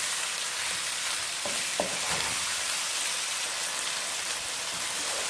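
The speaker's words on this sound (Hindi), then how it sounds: "बस अब थोड़ा सा इसको भूनेंगे हम।" Mutton karahi sautéing in a pan, a steady broadband sizzle with a few faint scraping stirs, close and continuous with no talk.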